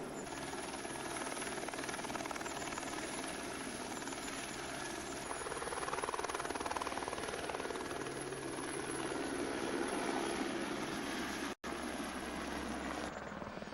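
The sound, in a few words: helicopter hovering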